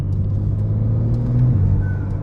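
A BMW M3 Competition G80 engine pulls away with a deep, steady rumble and whir, close and loud, with a slight rise in pitch and no voices.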